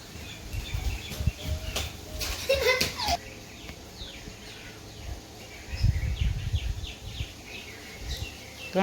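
Bulbuls and mynahs call outdoors with a few short, fairly faint chirps and twitters over low rustling background noise.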